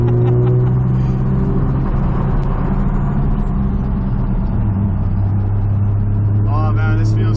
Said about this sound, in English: Just spins the tires.